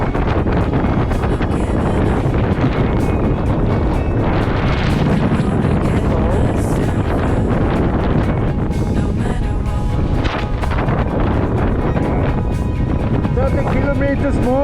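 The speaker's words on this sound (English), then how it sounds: "that's a lot of wind all day" Strong Patagonian wind buffeting the microphone with loud, continuous gusty roaring throughout, with a person speaking under the noise.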